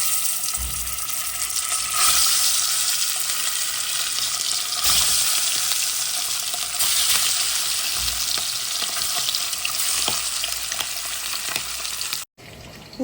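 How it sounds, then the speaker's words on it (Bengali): Egg frying in hot oil in a home kitchen, a steady bright sizzle and crackle running continuously and close, with faint stirring scrapes and a brief dropout near the end. "ডিমটাকে ভেজে নিচ্ছি।"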